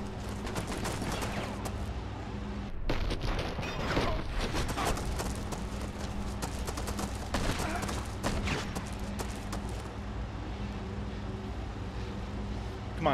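Shotgun fire in the Enter the Matrix video game, a run of sharp blasts scattered across the fight amid steady background noise, fairly loud and fast.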